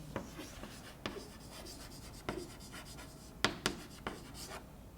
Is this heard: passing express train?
no